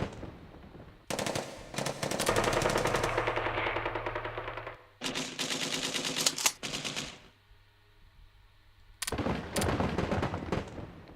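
Counter barrage in a World War I Hearts of Iron III mod: dense rattling gunfire in three long bursts separated by short gaps, loud and continuous, with no talking.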